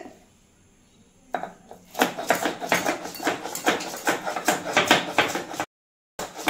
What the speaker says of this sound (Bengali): আমি আদা বেটে নিচ্ছি বন্ধুরা পাতার মধ্যে